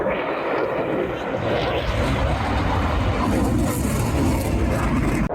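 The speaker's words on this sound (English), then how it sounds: "First very loud jets now. We got the Typhoon display coming up next." A Eurofighter Typhoon fighter jet at the Cosford airshow roars continuously as a loud, broadband engine rumble that fills the whole stretch, steady and powerful without a break.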